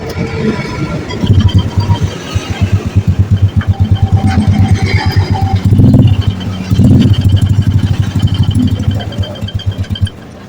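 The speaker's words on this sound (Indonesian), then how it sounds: "ini knalpotnya suaranya berisik, jadi tidak kedengaran suara mesinnya" A motorcycle engine with a loud, noisy exhaust idles and revs close by in rapid pulsing throbs, its drone swelling a few times; the bike has a wrecked cam chain.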